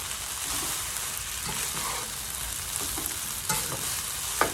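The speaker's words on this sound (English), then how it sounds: "I'm gonna let it sit here for just a couple of seconds to see if it starts to crisp up." Chicken fried rice frying in a skillet, a steady broadband sizzle close by with a few sharper pops and spatters, no talking.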